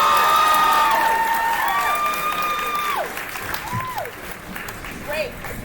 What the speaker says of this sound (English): Let's give Jerome another round of applause,